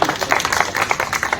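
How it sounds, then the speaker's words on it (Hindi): A crowd at a Hindi pension meeting claps in a brief burst of dense, overlapping applause, loud and close, with no voices over it. "तालियां भाई, तालियां।"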